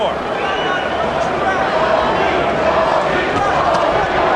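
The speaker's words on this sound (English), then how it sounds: "Crowd getting behind Holyfield." A loud boxing arena crowd roars steadily behind Evander Holyfield during round 4 of his heavyweight bout against John Ruiz. The dense, continuous cheering fills the space, with a commentator's voice running over it.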